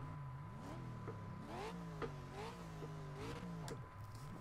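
An Aston Martin V8 Vantage GTE race car engine in the video game Project CARS revs up and down in repeated surges, its pitch climbing and dropping as gears shift, steady and fairly close with no talking.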